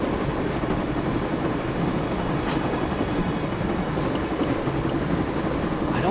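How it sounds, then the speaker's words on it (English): Steady rumbling train noise from the Broken Sword video game, a continuous low, dense roar with faint rhythmic clatter, heard alone without talk. "I'd always wanted to stop the train,"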